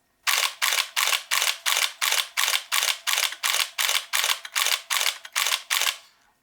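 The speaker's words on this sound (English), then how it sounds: "one negative thing about the camera is how it feels when you're shooting in continuous mode" A Nikon D1x SLR shutter firing in continuous shooting mode at about three frames per second, thirteen loud, evenly spaced mechanical clacks close up, then stopping.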